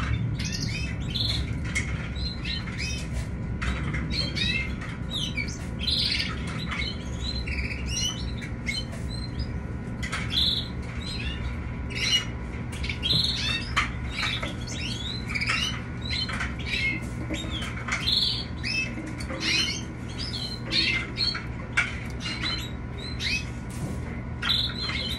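Pet canaries chirping and squawking nearby, a busy, continuous stream of short bright calls and tweets with occasional louder squawks, no voices present.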